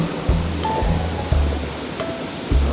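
Maranum Falls in Natividad, Pangasinan roars as a steady, loud wash of falling water heard from the top of the falls, with a few faint thumps under the constant rush.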